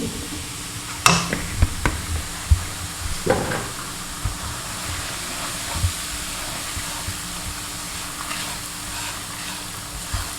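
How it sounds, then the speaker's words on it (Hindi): Semolina tipped into hot ghee for jaggery halwa, a steady broad sizzling hiss with scattered crackles and pops near the pan, with no talk. "ये देखिए घी जो है मेरा गर्म हो चुका है, इसके अंदर मैं सूजी को डाल दूंगी।"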